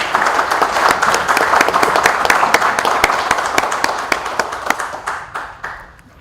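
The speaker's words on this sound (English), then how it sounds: "it's a good time to clap there" An audience at a digital governance panel discussion claps with loud, sharp, steady strokes that thin out and fade toward the end, with no talk over it.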